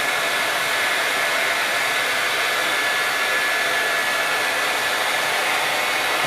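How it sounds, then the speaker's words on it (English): A hair dryer blows steadily and loudly on an epoxy countertop the whole time, a constant broadband whoosh with a faint motor hum beneath, no voices. "we'll use the hair dryer to do that"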